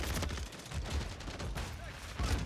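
Rapid video game gunfire crackles in quick bursts through the short stretch, fairly dense and steady, with a voice faintly present underneath.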